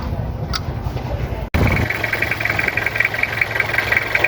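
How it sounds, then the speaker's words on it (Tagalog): A car engine cranking briefly, catching, and settling into a steady, slightly knocking idle heard up close after a short pause. "tapos i-start natin yung makina"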